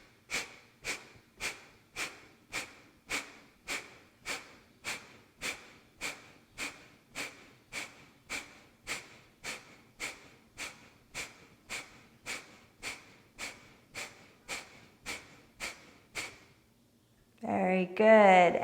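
Kapalabhati breath of fire: about twenty-five rapid, forceful nasal exhalations in an even, quick rhythm, close and clear, followed at the end by a louder deep breath.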